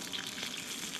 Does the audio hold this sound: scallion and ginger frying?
yes